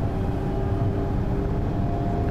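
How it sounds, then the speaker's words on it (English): A regional express train in Train Sim World 2 gathers speed on the Cologne high-speed line, its cab filled with a loud, steady rumble and a faint humming tone, with no talking. "Train is nicely speeding up."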